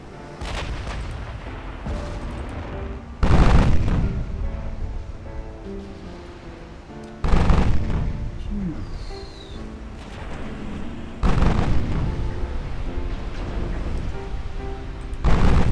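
Huge 18-inch naval guns fire in the Ultimate Admiral Dreadnoughts warship game: three heavy booming salvos several seconds apart, each a loud blast trailing into rumbling decay over a wash of sea ambience.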